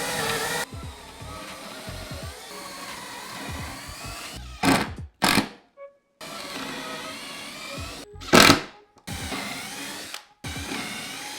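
A power drill held in a drill guide whirs in several short bursts into wood. Between the bursts there are gaps, and the motor pitch rises and falls as it spins up and slows down.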